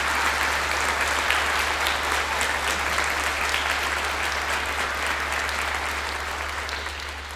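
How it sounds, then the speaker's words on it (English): Dense, sustained applause from the audience at a Marshall High School choir concert, loud and continuous throughout, easing slightly toward the end, with a steady low hum beneath the clapping. "So here's a round of applause for you."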